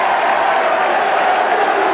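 Football crowd at a stadium cheering a player leaving the ground, a dense, steady roar of voices and applause at a distance.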